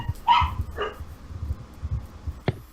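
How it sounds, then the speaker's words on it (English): Dogs bark a few times, with a couple of sharp yips and whimpers spread across the moment, sounding fairly faint and distant over a low background hum. "They've released the dogs."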